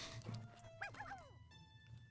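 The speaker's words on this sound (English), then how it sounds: "you can hear the excited sounds of puppies from in the wagon" Excited puppies yip and whimper from inside a wagon, a few short high squeaks and whines in quick succession, fairly close but soft, over a quiet low background.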